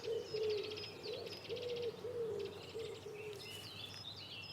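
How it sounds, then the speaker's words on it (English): A stock dove in a woodland gives a series of low, soft, rhythmic coos, steady and fairly close, while small birds chirp faintly in the background. "Top of the list? The stock dove."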